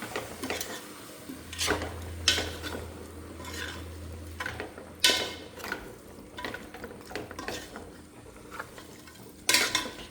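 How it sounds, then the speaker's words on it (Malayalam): A spoon stirs and scrapes a beef mixture around a pan, Kottayam style, in a run of uneven clattering strokes with sharper knocks, close up over a faint background sizzle. "ഇത് നല്ലപോലെ ഇനി മിക്സ് ചെയ്യണം"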